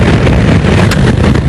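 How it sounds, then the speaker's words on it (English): Strong crosswind at Bruntingthorpe buffets the microphone in a continuous loud roar, with gusty bursts throughout. "So here comes the crosswind"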